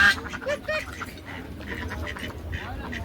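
A black duck gives several short nasal quacks close by, mixed in with people chatting nearby.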